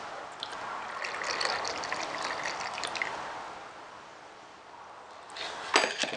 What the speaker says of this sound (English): Always try to pour the acid into water.